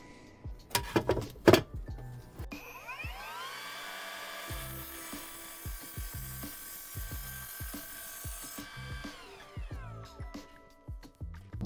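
An Evolution R255SMS-DB-LI cordless mitre saw spins up with a rising whine, holds a steady high-pitched drone through an angled cut for several seconds, then winds down, with clicks and knocks of handling around it.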